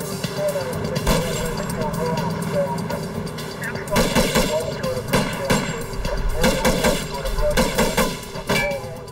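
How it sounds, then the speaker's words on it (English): Rifle gunfire in a reenacted police shootout at a roadside van, repeated loud reports in uneven bursts mixed with a busy dramatic soundtrack, with a voice talking over parts of it. "the driver pulls out a rifle and starts shooting"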